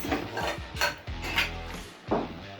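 Borcam glass salad plate and other dishes handled in a home kitchen during cleanup, giving several close clinks and knocks of glassware set down and shifted in an irregular rhythm, with no talking.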